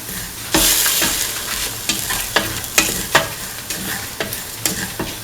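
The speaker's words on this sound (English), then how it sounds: "Mix the semolina with the rest of the mix." Semolina being stirred into a chickpea mixture in a sizzling pan, with steady scraping strokes over a continuous frying hiss and a few sharper knocks of the spoon, close and alone with no talk.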